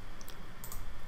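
A computer mouse clicking on an on-screen button, a couple of sharp, light clicks close to the microphone against a faint steady hiss.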